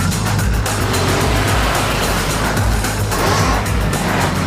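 A four-wheel-drive car with anti-lock brakes driving across snow, its engine droning loud and close with a rough, steady road roar that swells and dips slightly, with no talking.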